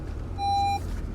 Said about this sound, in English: You can hear all the sensors going off because they think that I'm going to hit something.